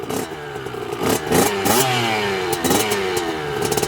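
A second-hand motorcycle engine warming up, revving in repeated surges and falling back between them. It sounds loud and close, with a clattery mechanical edge and no talk.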